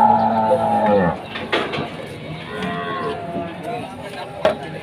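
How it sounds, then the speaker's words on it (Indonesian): Cattle low loudly at a livestock market, starting with one long, deep moo, followed by busy market clatter and sporadic lowing in the background, with a sharp knock near the end. "Bawa 2 ekor sapi."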